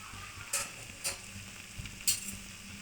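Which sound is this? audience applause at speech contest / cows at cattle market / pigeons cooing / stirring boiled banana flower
stirring boiled banana flower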